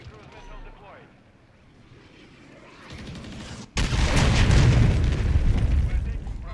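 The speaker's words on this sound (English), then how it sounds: "Friendly cruise missile deployed." A cruise missile strike in Call of Duty: Modern Warfare III slams in with a sudden heavy boom, then a loud sustained roar of rumbling blast and debris that follows quieter battlefield noise and faint game voice lines.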